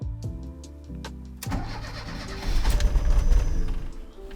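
An old campervan with little petrol, some poured into the carburettor, cranks in quick rhythmic bursts, then catches into a rough, loud, uneven engine rumble that swells and rises before settling.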